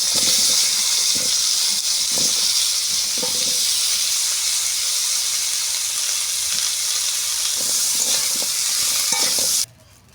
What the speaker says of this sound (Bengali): ওলকপি, আলু, গাজর একসঙ্গে ভেজে নিচ্ছি।